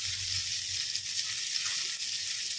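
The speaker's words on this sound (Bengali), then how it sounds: "উচ্ছে পটল একসঙ্গে কাটা ছিল আমি একসঙ্গে ভাজা বসিয়ে দিয়েছি" Sliced bitter gourd and pointed gourd frying together in a pan, a steady bright oil sizzle holding even and close throughout with no talking.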